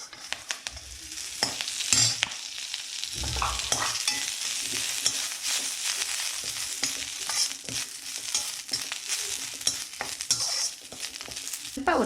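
Curry leaves fry in a little oil, a soft hiss broken by repeated scraping and clattering strokes of a spoon against the pan.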